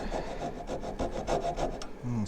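A coping saw cuts through a piece of wood clamped in a vise, giving a steady rasping back-and-forth stroke rhythm, close and fairly loud, with no talking.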